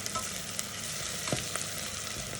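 Onion fries in a pan with a steady, bright sizzle, close and continuous, broken only by faint stirring scrapes.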